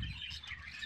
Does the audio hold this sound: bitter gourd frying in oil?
no